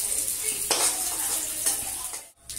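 Boiled potatoes fry in hot oil left from frying fish, giving a steady close sizzle with occasional stirring and pan scrapes, cutting out briefly near the end.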